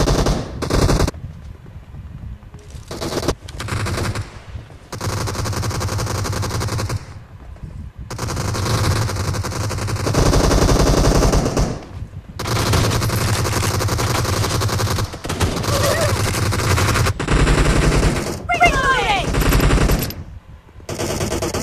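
Long automatic bursts of video game gunfire during a battle royale match, loud rattling volleys broken by short silences, with a few single shots between them.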